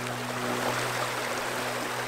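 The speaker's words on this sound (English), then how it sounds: "We have to cross this river" A river flows with a steady, broad rushing wash, close and continuous. A low droning hum runs underneath.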